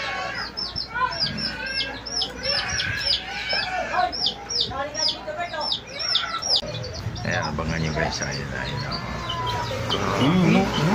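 Chickens cluck and chirp repeatedly, close by, while a person speaks over them in bursts.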